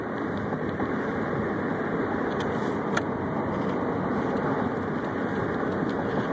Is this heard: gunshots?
no